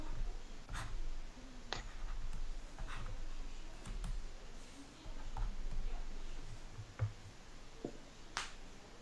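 Pen writing down a trigonometry calculation on paper, scattered soft scratches and taps at close range over a faint background hum, with no talking.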